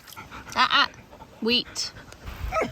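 Dog named Jack riding in a car, giving a few short yips and whimpers close by between bursts of people talking, over a low rumbling background.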